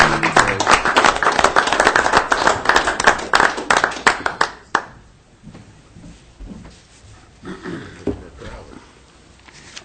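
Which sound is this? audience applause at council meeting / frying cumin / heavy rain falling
audience applause at council meeting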